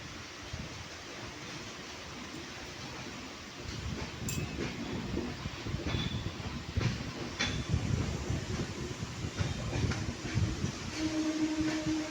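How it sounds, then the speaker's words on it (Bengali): Steady low rumble of a MEMU train leaving Azimganj City station, with faint clanks and metallic squeaks rising as it picks up pace; no voices. "আমাদের ট্রেন আজিমগঞ্জ সিটি ছেড়ে দিয়েছে"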